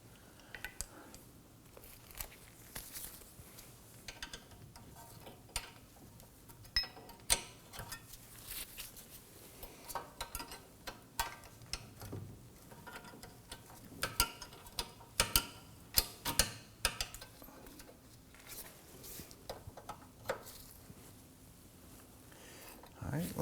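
A wrench runs in the rear wheel hub bolts on a 2003-2014 Volvo XC90 during a hub and bearing replacement. Faint ratcheting ticks come in short bursts, with some talk in the background.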